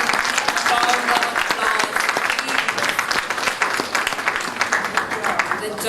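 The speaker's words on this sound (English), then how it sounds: "Let's give all our participants a resounding round of" An audience at a primary school public speaking competition claps for the participants, a dense, continuous wash of applause from a crowd, steady and moderately loud throughout.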